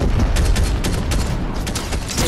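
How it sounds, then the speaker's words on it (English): Rapid gunfire in a multiplayer shooter game, a loud dense burst of shots lasting the whole short clip with no talk. "oh, we're getting shot at somewhere. Behind us."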